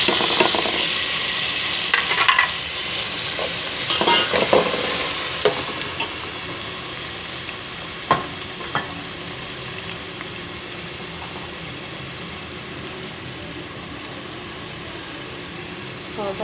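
Tomatoes go into a hot pan with chillies and begin frying, a moderate sizzle with a few stirring knocks early on that settles into a softer, steady hiss.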